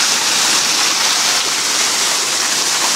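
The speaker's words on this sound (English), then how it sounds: "Little teaser falls on the way down to the big one." A small waterfall on the trail down to Pailón del Diablo rushes in a loud, dense, unbroken roar of falling water, close and constant throughout.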